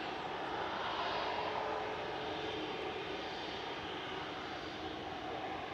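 An EasyJet airliner departing Manchester Airport for Malta gives a steady, loud, broadband engine roar that holds evenly throughout with no voices.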